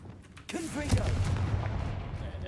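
A Confringo fire-blast spell goes off in Hogwarts Legacy as a sudden loud booming burst, followed by a rumbling roll that lingers for about two seconds, with a brief voice sound near the start.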